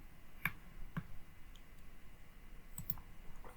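A computer mouse clicks a couple of times in a quiet room, the crisp, close taps spaced about half a second apart, followed by a few fainter clicks later.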